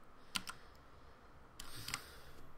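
Faint clicking of keys on a computer keyboard, two short clusters of quick taps separated by a pause, close and quiet in an otherwise still room.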